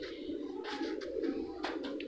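A female pigeon coos softly nearby in a loft of racing birds, a few rounded, throaty calls over a steady low background hum.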